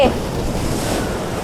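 Sea waves wash onto the rocky shore of Laem Phromthep cape, a steady, close, continuous roar of surf mixed with wind buffeting the microphone, with no clear break across the short stretch.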